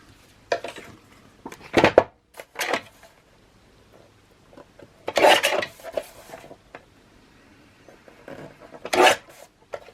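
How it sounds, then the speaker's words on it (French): Paper edges are trimmed for a Coffee & Chocolate themed Stamperia scrapbook album, giving short, close rasping snips and rubs in separate bursts with quiet gaps between them. "Je découpe ici tout ce qui se dépasse comme ça."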